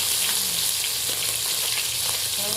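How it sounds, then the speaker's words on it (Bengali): Tengra fish frying in hot oil, a loud dense continuous sizzle and crackle close by, steady throughout with no voices. "দেখুন ভালো করে মাছগুলো আমি লাল লাল করে ভেজে নেব"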